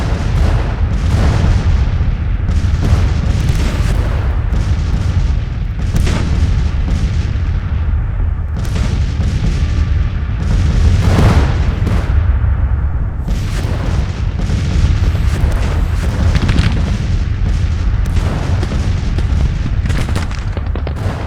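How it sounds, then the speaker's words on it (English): Cannon and rifle volleys from a Civil War battle in Grand Tactician: The Civil War, a steady dense rumble of booms and crackling musketry with repeated louder bursts across the whole stretch, no talking. "He's still shooting at the damn infantry that needs to be firing at the goddamn artillery."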